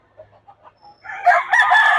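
A rooster crows loudly and close by at a chicken market, its drawn-out call rising after a few soft clucks.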